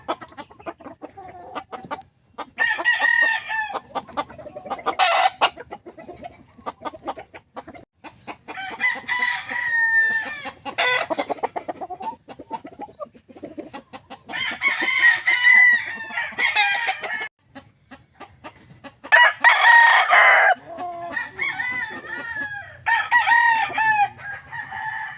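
Bullstag fighting roosters crow repeatedly and loudly over about twenty-five seconds. Several long cock-a-doodle-doo calls come with short pauses between them, and softer clucking and faint background noise fill the gaps.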